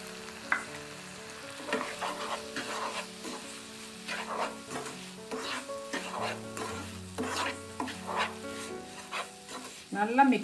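Flattened rice (aval) being stirred and fried in a pan for puttu, with repeated scraping strokes over a soft sizzle and a low tonal hum underneath.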